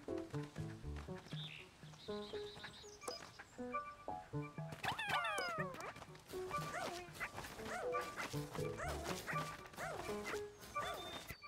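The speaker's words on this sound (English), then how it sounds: "he's probably just gonna bark at this one" A cartoon dog barks repeatedly in the Pikmin 4 video game, quick yippy barks and whimpers in a busy run over chirpy game music and effects, fairly close and lively throughout.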